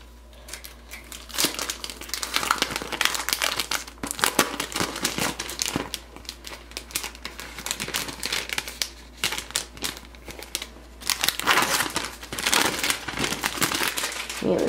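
Paper crinkles and crumples while a Cloth and Paper stationery subscription box is unpacked, in loud, close bursts of rustling and crushing that come and go against a low hum.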